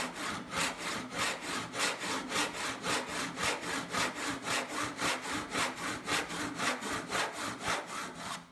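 A tenon saw cuts through wood in long, even strokes, a steady rhythmic rasp of roughly two strokes per second, close and continuous throughout.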